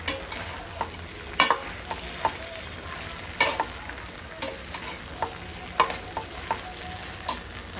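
Mini idlis stirred and frying in a pan, with a steady soft sizzle broken by sharp, irregular scraping clinks of the spoon against the pan, close and clear with no talking.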